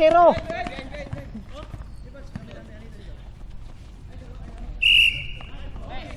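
A referee's whistle at an indoor basketball game, one sharp shrill blast near the end, preceded by a short chirp, with ball bounces, shoe squeaks and voices around.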